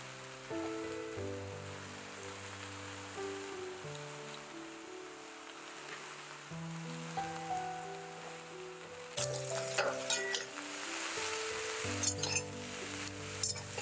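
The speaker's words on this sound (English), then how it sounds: "Take the time to give it a good stir." A pot of chickpea and eggplant curry with potatoes, onion and scallions is stirred, giving soft scraping and bubbling over a steady sizzle, close and without speech.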